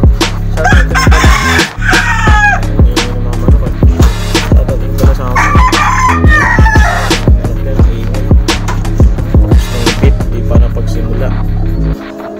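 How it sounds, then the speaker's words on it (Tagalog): A rooster crows a couple of times over dense, loud background noise, with voices talking throughout. "ang ingay ng manok eh"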